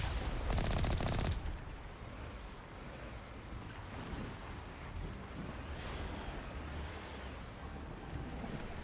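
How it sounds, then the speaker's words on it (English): Gunfire aimed at a turret in Mass Effect Legendary Edition, a loud burst at the start and then a sustained rumbling wash of distant shooting and battle noise. "I am shooting like crap at the turret."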